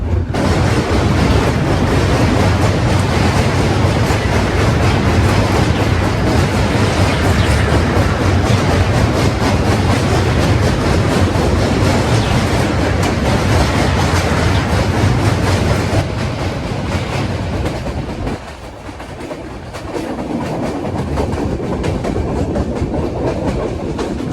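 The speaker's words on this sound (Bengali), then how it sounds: "রাইট নাও আমরা আবারও উঠতেছি" Kapotaksha Express rolls across Hardinge Bridge, a loud continuous rumble and clatter of train wagons on rails, sustained for most of the stretch before easing briefly near the end and then resuming.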